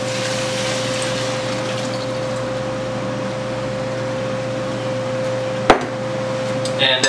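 About three and a half cups of water pour steadily into a cooking pot for vegan meal prep, a continuous rushing gush with a faint hum beneath and a sharp clink near the end.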